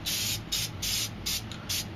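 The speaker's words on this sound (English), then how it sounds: "I'm going to spray a little bit of white right here just to make the moon a little bit brighter." White spray paint hissing from an aerosol can onto poster board, in five short bursts of bright, airy hiss separated by brief pauses, close and fairly loud with no talk.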